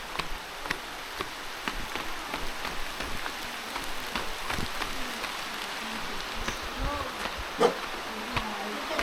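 Steady patter of rain on a surface, with scattered sharper drops and taps over a continuous soft hiss.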